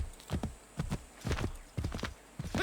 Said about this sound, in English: Can I actually ride a horse right now?